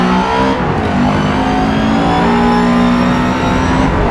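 A race car engine in a video game revs hard at the race start while held in second gear, a loud, steady drone with rising whining harmonics and layered engine tones from nearby cars on the grid.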